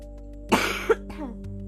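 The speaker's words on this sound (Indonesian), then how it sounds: "aku agak sedikit sakit, jadi kepotong-potong batuk ya" A person coughs twice in quick succession, a harsh burst followed by a shorter one, close to the microphone, with no talk around it and a steady low electrical hum underneath.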